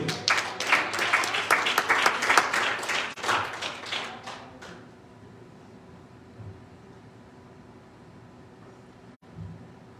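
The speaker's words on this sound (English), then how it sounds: "Will you clap your hands to the Lord?" A church congregation claps hands loudly and briskly for about four seconds, the sound dense and rhythmic before it falls away into a quiet hall with faint background hum.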